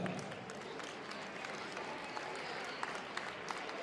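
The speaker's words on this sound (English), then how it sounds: "Let's give our junior varsity wrestlers a great round of applause." Applause for junior varsity wrestlers at a conference wrestling meet in a gym, a dense, fairly faint wash of crowd clapping lasting a few seconds with a few sharper claps standing out.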